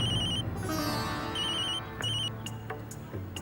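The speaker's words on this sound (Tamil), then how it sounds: "உங்க அண்ணன் தான் ஃபோன் பண்றாரு" A telephone rings for an incoming call in a Tamil television serial, with bright electronic ring bursts repeating in a steady pattern over quiet background music.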